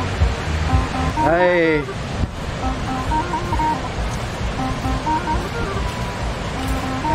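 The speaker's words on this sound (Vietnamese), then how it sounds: "đây là thác Bản Dốc" Ban Gioc waterfall roars with a dense, continuous rush of falling water heard from nearby, while a voice calls out briefly and other sounds drift over the steady wash.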